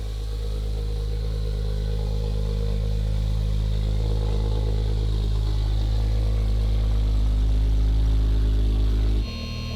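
A rebuilt, healthy-sounding Porsche 911 Turbo engine idles loudly and steadily with a low, even rumble and faint mechanical clatter, cutting off abruptly near the end.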